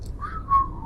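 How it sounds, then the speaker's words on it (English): Someone whistles one short, wavering tone that rises slightly and then sags. It is fairly faint against a quiet room background. "trying to whistle"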